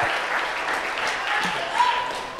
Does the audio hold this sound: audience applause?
yes